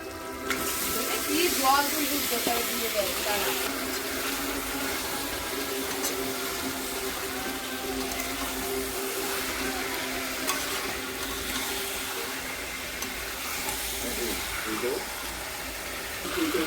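Chicken hits a hot pan for bhuna khichuri, giving a loud, sustained sizzle with a watery hiss, steady throughout with some stirring and a voice talking over it.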